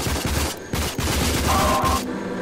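Rapid automatic gunfire from a firefight in the shooter video game Rage, dense bursts of shots running nearly continuously at close range, loud and alone without talk.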